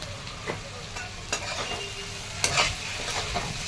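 Biryani masala is stirred into vegetable rice frying in a pan, with a steady sizzle under it. A spoon scrapes and taps against the pan at irregular intervals, producing several sharper knocks.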